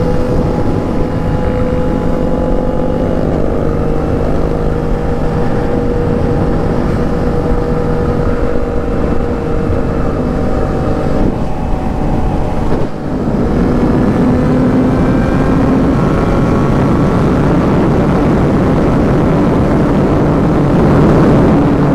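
Honda Titan motorcycles accelerate on a group ride, a loud continuous engine drone with rising tones as they rev up, heard up close throughout with no talking.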